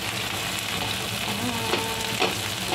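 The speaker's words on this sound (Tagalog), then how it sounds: "Dito na po tayo mag-stir fry ang ating garlic" Garlic stir-fried in a hot pan gives a loud, continuous sizzle with a few utensil scrapes and clinks near the end, close and without speech.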